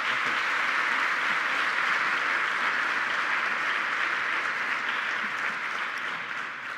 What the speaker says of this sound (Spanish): Un fuerte aplauso para él